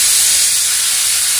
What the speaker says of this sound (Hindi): लग गई कुकर की बज गई सीटी लग गई।